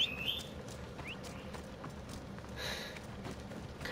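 Horse hooves in Assassin's Creed Odyssey keep up a faint, steady clip-clop at a slow pace, with bird chirps mixed into the open-air background and no one talking.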